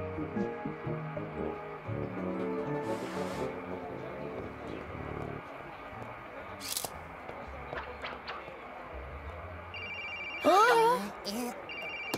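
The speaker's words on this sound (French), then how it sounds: "Le portable de Madame Vinaigre" A phone rings in short electronic bursts near the end, after quieter background sounds and a passing hum.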